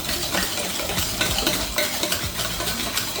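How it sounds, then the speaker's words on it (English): Warm heavy cream and vanilla being stirred into eggs for crème brûlée, a steady close wet swishing and scraping in a bowl with light clinks, continuous and without talk. "we wanna stir this. We don't want to turn this into scrambled eggs"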